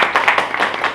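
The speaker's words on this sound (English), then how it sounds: "Give a round of applause to them" An audience claps for the event's speakers in a hall, a loud, dense burst of applause with sharp individual claps showing through, steady for the whole moment with no talk over it.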